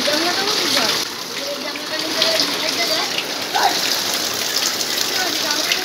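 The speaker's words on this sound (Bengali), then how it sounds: "প্রচুর বৃষ্টি হচ্ছে" Heavy rain falling outdoors, with basins set out to collect the water, gives a dense, steady hiss of drops and splashing, continuous and fairly loud.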